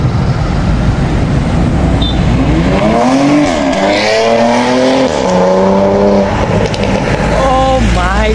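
A Porsche Panamera on a Gulshan 2 street in Dhaka revs loudly and sweeps up and down through several rising engine pitches, with a squeal of tyres and constant nearby traffic noise and voices.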